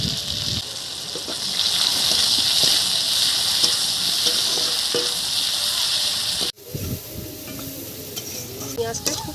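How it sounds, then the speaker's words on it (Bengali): Chopped onion fries loudly in hot oil tempered with dried red chilli and cumin, a dense steady sizzle with stirring clinks that cuts off abruptly, followed by quieter scraping and light utensil taps. "পেঁয়াজটা খুব সুন্দর করে ভেজে নিয়েছি"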